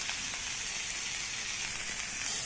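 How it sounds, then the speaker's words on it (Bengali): Chopped onion, ginger and green chili fry in a pan with a soft, steady sizzle, a faint continuous crackle heard alone and close at low volume. "এটাকে ভালো করে ভেজে নেব"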